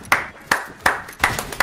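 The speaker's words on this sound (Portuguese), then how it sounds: "salve de palmas!" Five distinct hand claps at a slightly uneven, fairly slow pace, close by and crisp, with no voices.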